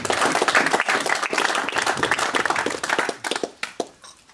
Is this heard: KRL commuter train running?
no